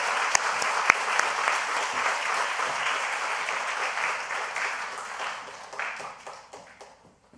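A church congregation claps to welcome a man forward to give his testimony at a new-members graduation and baptism service; loud, sustained applause with a few sharp claps early on, gradually thinning and fading out.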